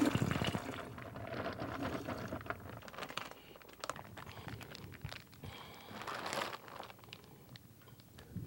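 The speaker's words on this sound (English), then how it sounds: "So gently hold your bag and pour in your juice." Grape juice pours from a bag into a fermenter for home winemaking, making a steady, close splashing and gurgling stream with faint crinkling of the bag.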